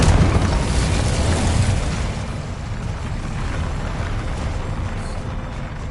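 A fire spell cast in Hogwarts Legacy bursts out as a loud, roaring whoosh of flame, a dense rumbling blast that holds steady and slightly eases over several seconds.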